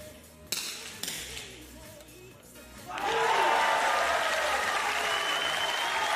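A few sharp claps, then a burst of sustained applause and cheering erupts from the crowd at a Paralympic men's 50m rifle 3 positions shooting final in Paris 2024, loud and steady to the end.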